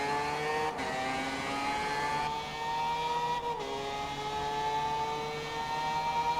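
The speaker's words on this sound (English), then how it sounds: "Formula Drift RX-8 with the 20B in it sounds absolutely insane" A Formula Drift Mazda RX-8 fitted with a 20B three-rotor engine, in a video game, holds a high, buzzing rotary drone. The engine steps through a couple of pitch shifts as the revs change, with no talking.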